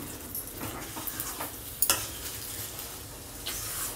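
Oil poured into a hot pan of buttermilk batter sizzles softly at close range, with a sharp spoon or ladle scrape near the midpoint and light stirring scrapes throughout, no voices.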